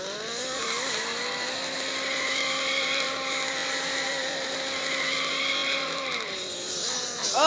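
A car in a racing video game played with a steering wheel, a sustained high engine whine and continuous tire-skidding squeal that shifts in pitch, with a brief rise at the end.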